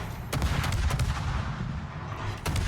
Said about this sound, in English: We'll just keep firing a couple more salvos there.